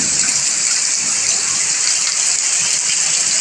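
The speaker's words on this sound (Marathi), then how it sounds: "सुद्रीवाडीत तर जोरदार पाऊस चालू आहे सगळीकडे पाणीच पाणी" Heavy monsoon rain pours down in a Konkan village, Kalsuli, with water running everywhere; a dense, steady roar of rainfall and gushing water fills the whole stretch at close range with no letup.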